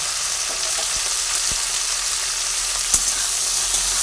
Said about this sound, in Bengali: ভালোভাবে ঢেঁড়স ভেজে নিচ্ছি